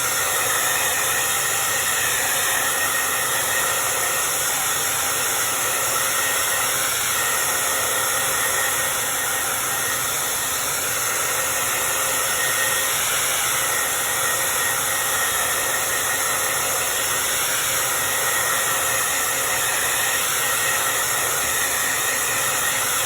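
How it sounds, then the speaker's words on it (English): A hair dryer blows steadily to dry paint, a constant loud close whooshing hiss that runs unbroken throughout with no talking. "I'm going to blow this dry just to make sure all of everything I'll be painting on top of is dry"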